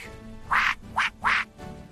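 A duck quacks three times in quick succession, loud and close, with short pauses between the calls.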